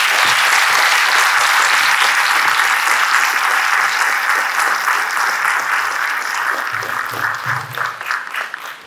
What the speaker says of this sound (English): Let's give Sumati and her guru and choreographer, Selvi Chandranathan, another huge round of applause.